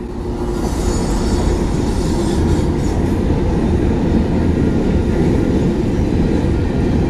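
A long commercial freight train rumbles past at the bottom of a valley, a steady loud roll of wheels on rails with faint squeal and clatter, continuous throughout.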